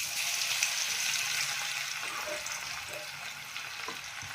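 Mustard seeds frying in hot oil while cooking a Maharashtrian chickpea-greens dish, a steady close hiss of sizzling with faint light crackles, no talking.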